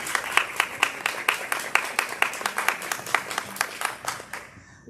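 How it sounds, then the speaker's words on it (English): Applause from an audience at a community gathering, a steady run of claps lasting several seconds with sharp individual hand strikes standing out before it fades abruptly to quiet. "Cardell Oren, would you give a round of applause?"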